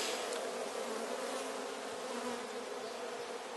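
Honeybees buzz steadily at a hive during a spring inspection, a dense, continuous drone that holds close and even throughout with no voices.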